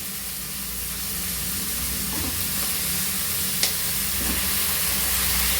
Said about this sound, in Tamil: இப்போது நம்ம கத்திரிக்காயை போடுறோம்